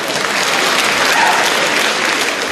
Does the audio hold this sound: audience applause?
yes